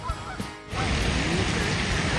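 Geese honking and other birds calling around a pond, a steady noisy wash of overlapping calls that thickens after the first moment, with no clear single call standing out.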